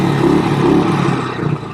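A BSA Victor Special 441 motorcycle, a classic long-stroke single, revs close by. Its exhaust gives a brief, loud, throaty burst that eases off toward the end.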